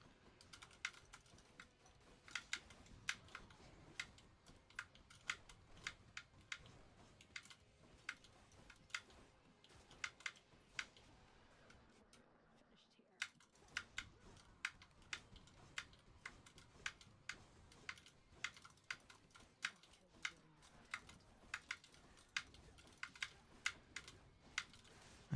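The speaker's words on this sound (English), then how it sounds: "the number of times I spammed my keyboard, my spacebar" Rapid, uneven keyboard typing and spacebar tapping during a Hades gaming session, sharp clicks in irregular bursts with a brief pause midway, close and fairly quiet, no talking.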